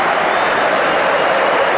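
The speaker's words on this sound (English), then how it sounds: "And they applaud the supporters in return" A stadium crowd applauds steadily at a Newcastle United versus Chelsea football match, a loud, continuous wash of clapping and crowd noise with no break.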